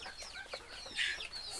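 Thirty-two-day-old Egyptian Fayoumi chickens cluck softly and close by, a brief cluster of short calls with one louder squawk near the middle.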